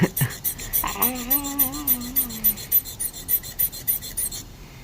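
Rhythmic metallic scraping strokes of a dental enamel hatchet or gingival margin trimmer being sharpened, about a dozen even passes repeating steadily, close and sharp, with a brief faint voice near the start.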